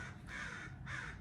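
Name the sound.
crows cawing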